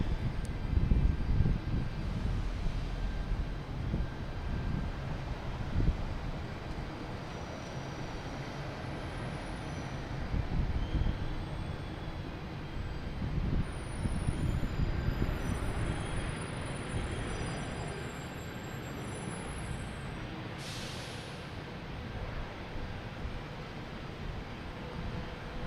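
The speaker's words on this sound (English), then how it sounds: "Here's Austrian Airlines" Austrian Airlines airliner arriving from Vienna at Boston Logan Airport, a steady low engine rumble with broadband roar, moderately distant and constant throughout, no talk.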